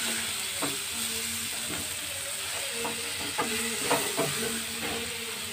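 Tomato, salt, sugar and chilli powder stirred together in a pan for dal makhani, a steady soft sizzle with scattered scraping spoon strokes, close and continuous without talk.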